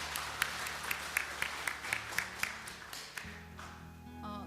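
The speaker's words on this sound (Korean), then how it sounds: "감사의 박수를 드리겠습니다" A church congregation at a Sunday service applauds a missionary with a short run of soft, rhythmic clapping over a low hum that fades out, followed by faint background sounds.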